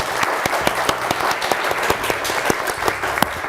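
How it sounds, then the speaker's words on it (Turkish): A studio audience on a Turkish word-game quiz show applauds the contestants, a dense burst of clapping with sharp individual claps standing out, steady and fairly loud throughout. "Önce onlara bir alkışlayalım"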